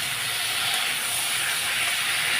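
Gati prawn curry fries and sautés in a pan, producing a steady, close, broadband sizzle that holds evenly throughout.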